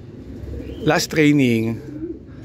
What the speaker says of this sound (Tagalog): meron pala ako ng isang ibon sa loob